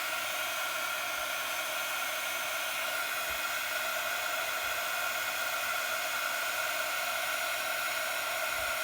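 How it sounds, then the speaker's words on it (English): A heat gun runs continuously for white heat embossing, a steady broadband hiss and whir like a hair dryer, fairly quiet and unbroken with no talking. "now I'm going to get my heat gun out, and we're going to have some noise"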